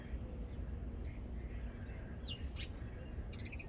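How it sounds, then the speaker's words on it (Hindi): Small birds chirping outdoors at an early-morning feeding spot, a few brief high calls scattered over steady low background noise, faint and somewhat distant. "ये देखें चिड़ियाँ आ गई हैं खाना खाने के लिए।"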